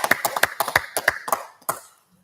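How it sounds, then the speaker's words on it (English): Several people clap in a sparse, uneven rhythm of distinct close claps during a rap livestream, the claps thinning out and stopping near the end. "Everybody clap it up. Clap it up."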